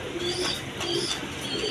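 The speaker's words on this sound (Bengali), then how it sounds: "বন্ধুগণ এখানে এক পেয়ার কবুতর আছে" A pair of short-face pigeons, a two-beat butterfly-coloured hen among them, coos softly and steadily across a short stretch, low murmuring calls close by with no talk.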